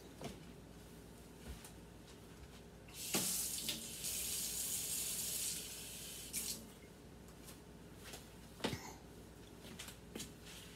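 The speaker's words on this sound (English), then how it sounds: "add a little bit of water." Water runs from a kitchen tap into a container for a batch of cocktail meatballs, a soft hissing stream for about two seconds amid scattered clinks and handling knocks, close and fairly quiet with no speech.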